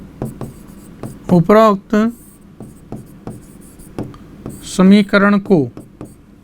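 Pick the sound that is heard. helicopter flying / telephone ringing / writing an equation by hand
writing an equation by hand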